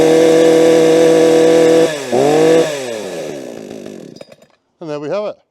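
A petrol chainsaw engine runs loudly and steadily up close, dips briefly and picks up again, then winds down and stops, followed by a short burst of sound at the end.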